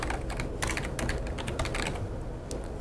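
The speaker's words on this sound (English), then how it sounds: "once I started typing some text" Steady, rapid typing on a computer keyboard while page text is edited in a web template, with close, dry key clicks in irregular bursts and no talk.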